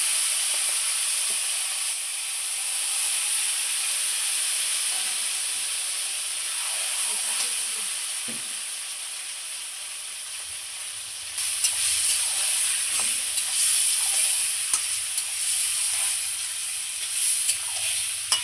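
Mutton goes into a hot pan with fried potatoes and sizzles in a loud, steady hiss that keeps going with small bursts of crackle and stirring clatter, and it brightens partway through.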